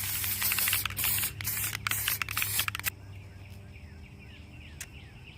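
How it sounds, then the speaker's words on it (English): A spray can sprays sparkly iridescent paint onto an outfit in short, loud hissing bursts with brief gaps, then softer, fainter hisses follow. "Let's pick up the spray and start spraying."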